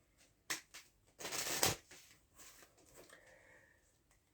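A pack of playing cards shuffled by hand: a few crisp flicks, then a rapid close riffle peaking in the middle and fading to faint card handling.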